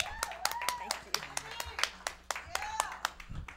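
Scattered audience clapping for Miss Vivian at a local El Monte variety show, sparse uneven hand claps ringing out over a voice and background murmur.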